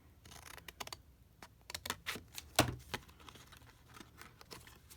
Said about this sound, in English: So we'll just cut down on this side.